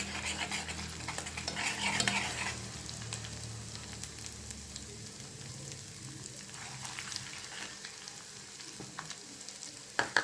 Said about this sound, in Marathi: कढीपत्ता घालून आपण हे छान मिक्स करून घेणार आहोत